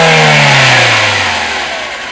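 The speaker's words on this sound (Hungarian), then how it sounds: "itt halljátok, itt ez a 16 szelepes 75 órás benzinmotor, ami szépen dolgozik itt a motor térben, sőt még egy gázadást is tudunk alkalmazni." Kia Rio 1.4 CVVT 16-valve petrol engine heard up close in the engine bay, revving hard and then falling back steadily toward idle, loud and with no talking.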